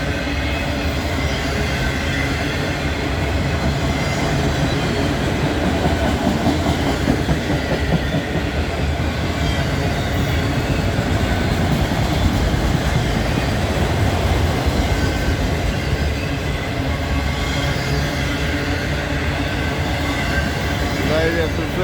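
A southbound freight train of empty auto rack cars rolls past close by, producing a loud continuous rumble with rhythmic clickety-clack of wheels and occasional squeal, steady for the whole stretch.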